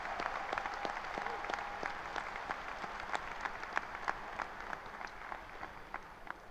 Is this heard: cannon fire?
no